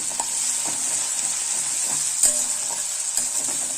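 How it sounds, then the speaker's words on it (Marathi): Green chili paste fries in oil until brown for a gram-flour pithale, producing a constant bright hiss of sizzling with a few soft stirring taps, close and even throughout. "ब्राऊन होईपर्यंत परतत राहू"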